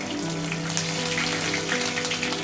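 Pieces of catla fish spit and sizzle in hot oil, a dense crackling fry that holds steady close by for a couple of seconds with no voices over it.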